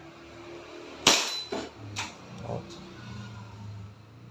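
A DB 1911 MEU airsoft pistol fires a single loud, sharp crack up close, followed by a few softer clicks and handling knocks over quiet room tone.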